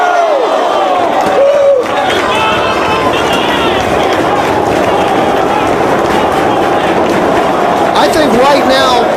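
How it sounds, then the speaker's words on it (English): Loud wrestling arena crowd during a CM Punk versus Samoa Joe match, a dense continuous roar of cheering and chanting that swells near the end, with commentary voices underneath. "both CM Punk and Samoa Joe are feeding off this crowd's energy"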